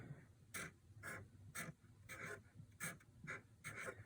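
A pen or marker scratches out lettering on a portrait drawing in short, quiet strokes, about nine separate bursts with brief pauses between, close and alone.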